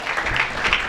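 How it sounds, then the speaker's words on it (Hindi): A brief burst of steady audience clapping at a Hindi poetry gathering, welcoming a poet to the stage, dense and fairly loud with no voices over it. "तो जोरदार ताली स्वागत करें"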